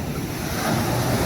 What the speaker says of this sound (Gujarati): કેટલા મોજા ઉછળે છે